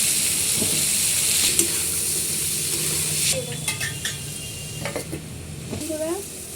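Onions sizzle in hot oil with chilli powder, salt and turmeric, a steady hiss broken by stirring scrapes and clinks of a utensil against the pan, close and continuous.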